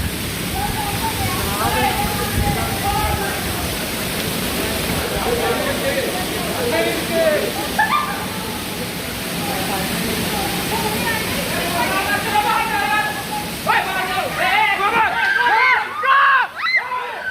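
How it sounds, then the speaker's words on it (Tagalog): Heavy rain roaring in Dubai in a dense, constant wash, with voices speaking over it and some splashing toward the end. "Grabe, lakas ulan."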